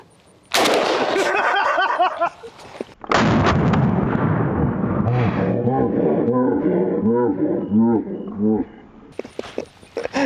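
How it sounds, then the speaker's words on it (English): AK-47 rifle shots fired outdoors, two loud close blasts with long rolling echoes, followed by a voice speaking over the fading reverberation. "there's already a round chambered, so the second that I shoot"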